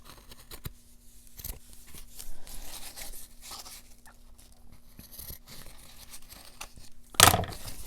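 Scissors snip through a paper tab on a handmade patchwork pocket or mini journal, with soft crinkling and rustling of paper throughout and a sharp, loud close cut near the end.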